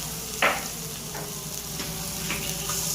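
Garlic sautés in a little oil in a pan, a steady close sizzle with a sharp burst as it hits the oil and occasional scrapes of stirring; no voices.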